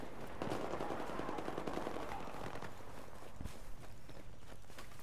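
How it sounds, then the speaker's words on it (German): Battlefield 4 gunfire on the Phantom Bow map: quiet bursts and scattered shots sound somewhat distant under a steady wash of battlefield noise. "Oh, wird schon wieder beschossen."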